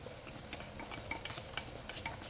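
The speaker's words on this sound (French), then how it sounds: "Je mélange toujours avec mes baguettes." Chopsticks whisk carrot-juice batter in a bowl, giving a steady, soft swishing broken by light clicks and taps against the side, continuous and fairly quiet with no voices.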